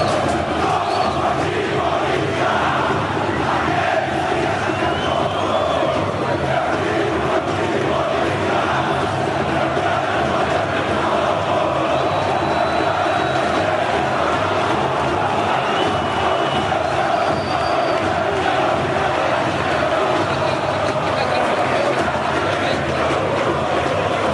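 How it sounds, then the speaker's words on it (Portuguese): Corinthians supporters chanting and celebrating at an away match against Independiente in Argentina, a dense, steady roar of massed voices filling the whole stretch without pause, loud and continuous. "A torcida do Corinthians, pra variar, fez festa."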